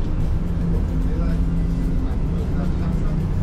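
Riding a city bus, with a steady low engine drone and road rumble filling the cabin, continuous and moderately loud, while a voice speaks over it.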